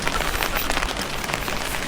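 Steady rain falls on an early Sunday morning in Stockholm, a dense, even patter on surfaces close by, with no voices.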